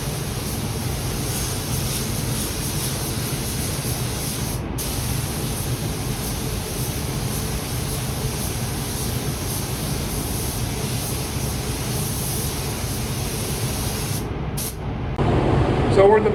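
Spray gun laying a second coat of Le Mans blue paint onto Corvette C6 ZR1 fenders inside a paint booth, a steady loud hiss of spray and booth airflow running continuously with a short break near the end.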